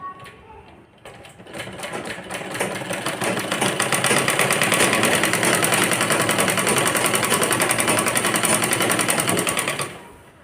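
A sewing machine runs a fast, loud, continuous line of stitching along a girl's skirt hem, building up after a couple of start-stop bursts and holding a steady whirring rhythm before stopping just before the end.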